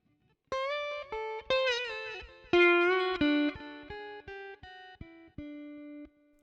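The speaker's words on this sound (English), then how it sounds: "the initial lead riff is played nice and loud and strong, and then that echo is done really super quietly" Electric guitar lead riff of clean, sustained picked notes, played loud and strong with a fainter echo of the phrase trailing each note, in a steady melodic run with no voices.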